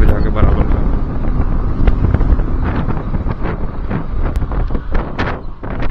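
Loud, continuous wind roar and microphone buffeting from riding a motorbike through strong gusts on a mountain ghat, with some voice faintly mixed in.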